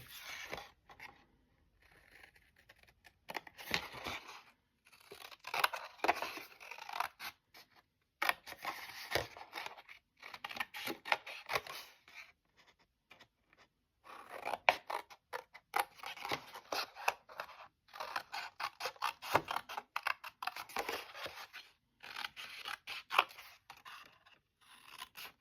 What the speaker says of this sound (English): So everything that has the scribbles, I'm going to cut.